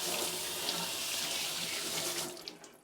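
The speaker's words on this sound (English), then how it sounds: "just gonna let that sit for 1 second while I wash my hand" Tap water runs steadily into a kitchen sink while hands are washed during cooking, a continuous close hiss that tapers off near the end.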